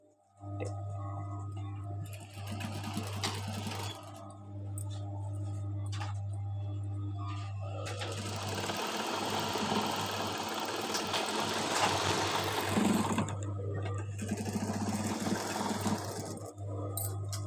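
Domestic sewing machine stitching around a blouse, its steady motor hum and needle ticking running continuously and close, growing louder and busier midway before easing near the end.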